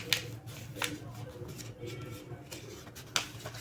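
Paper being folded in half for a ninja star gives soft, intermittent crinkles and rustles, with a few sharper creasing snaps, close up and fairly quiet.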